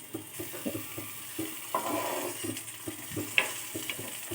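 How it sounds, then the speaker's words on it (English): Chopped tomatoes stirred in a kitchen pan, soft scraping and sizzling bursts with light clinks repeating steadily, close by and fairly quiet. "add those chopped tomatoes and give them a good stir"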